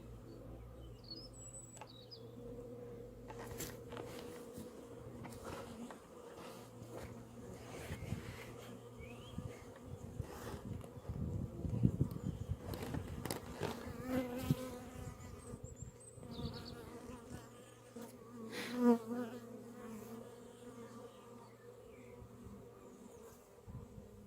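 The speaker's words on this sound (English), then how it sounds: "When the bees come in, a couple of sentries will check them, make sure that they belong to the colony," Honeybees buzzing at a hive entrance, a steady dense drone of many insects close by, with individual bees swelling louder as they fly past and faint bird chirps in the background.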